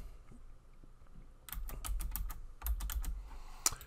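Quick bursts of keystrokes on a computer keyboard, close and fairly quiet, starting after a short pause and ending with a single sharper key tap.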